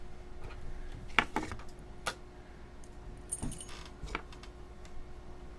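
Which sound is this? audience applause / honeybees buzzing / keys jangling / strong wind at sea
keys jangling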